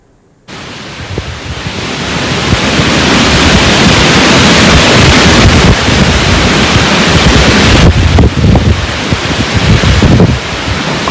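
Strong wind sweeps across border areas during heavy rain, a loud, continuous broadband roar with gusting surges that holds steady for about ten seconds with no voices.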